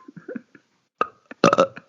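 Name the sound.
burp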